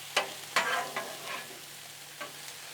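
Chicken stir fry with vegetables and baby corn cooking on a Blackstone griddle, a soft steady sizzle broken by several scraping, stirring strokes of a spatula, close and moderately loud.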